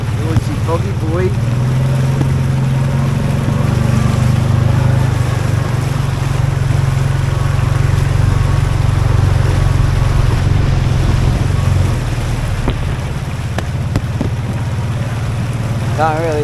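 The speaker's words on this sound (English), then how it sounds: "Going for a quick late night river crossing." A Toyota Troopy four-wheel drive crosses a river at night in foggy Tasmanian wilderness, its engine a loud, steady low drone with water churning and sloshing around it throughout.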